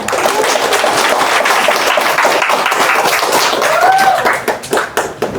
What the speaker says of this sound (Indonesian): kita kasih tepuk tangan dulu ke Panca